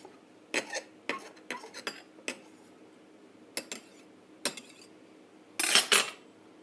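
A utensil stirs OxyClean soaking water in a plastic container, producing scattered sharp clacks and scrapes against the sides, separated by quiet gaps and ending in a brief cluster of louder knocks and sloshing.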